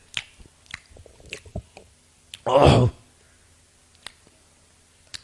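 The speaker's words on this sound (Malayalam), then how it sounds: "എന്നിട്ട് ആ മാങ്ങ ഇങ്ങനെ കടിച്ചിട്ട്" Someone bites into a ripe mango seasoned with salt and chilli, giving a single loud, wet, squishy burst amid scattered small clicks and mouth sounds.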